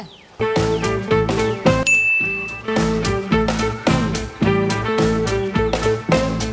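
A phone message notification chime rings out briefly over loud, steady rhythmic background music, with no talking.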